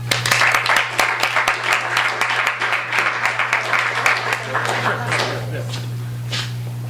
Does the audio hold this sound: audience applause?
yes